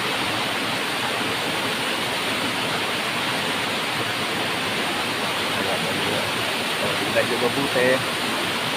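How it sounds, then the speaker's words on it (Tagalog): A steady, heavy rush of falling water from a waterfall in Barangay Bucal fills the scene, constant and close, with a person briefly speaking over it near the end. "So ayun, Talon."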